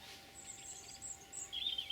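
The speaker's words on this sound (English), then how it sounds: "you can hear the birds there now" Birds chirp and sing faintly in the distance in the Northumbrian countryside, thin high calls repeating over a soft, steady outdoor hush.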